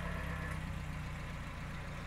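A Citroen DS car engine runs at a steady, low, throbbing idle, close and continuous with an even pulsing rumble and no voices.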